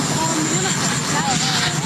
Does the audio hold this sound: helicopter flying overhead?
yes